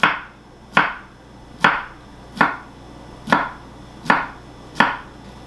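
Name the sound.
knife cutting cucumber into thin long slices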